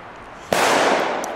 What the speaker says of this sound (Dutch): knalvuurwerk is echt nog wel de moeite waard hoor in België